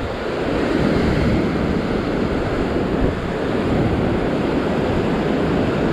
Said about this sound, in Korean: 너울성 파도.